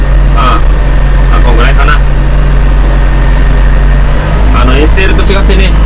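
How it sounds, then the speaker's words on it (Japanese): A Kubota MZ555 tractor engine runs at about 1500 rpm while rotary tilling a rice paddy, a loud, steady low drone filling the whole clip as someone talks briefly over it. "変速、まあ、大体ね、トラクターのスピード2キロぐらい目指しながらですので"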